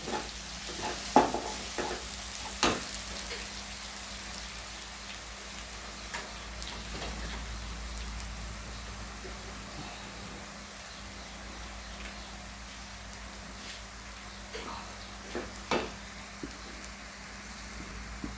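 Egg curry with green chillies and coriander being stirred in a pan, giving a steady low sizzle with scattered scraping clicks and taps of the spoon, close and fairly quiet throughout.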